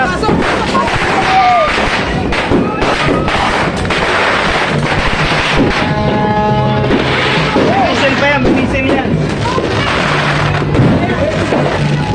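Continuous dense booms and crackling bursts of New Year's Eve fireworks fill the air, loud and close, with voices shouting underneath.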